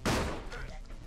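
Gunfire and explosions in the video game Ben and Ed Blood Party: a loud burst that trails into a dense, crackling clatter across the whole moment.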